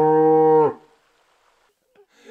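An angry mother cow lets out one loud, close, drawn-out bellowing moo with a strained, growling edge, then stops abruptly, leaving near silence with faint rustling afterward.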